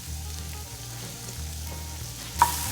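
Garlic and onions frying together in a pan give a steady, close sizzle with low stirring rumbles, and a brief sharp clatter comes near the end.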